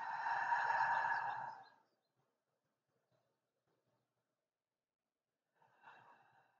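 A long, breathy exhale during a Pilates breathing exercise, steady and fairly close for about two seconds, then silence and a short, softer breath near the end.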